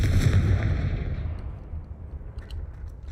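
A Confringo fire spell in Hogwarts Legacy goes off with a heavy, booming blast that rolls and decays over a few seconds, loud and close with no talking.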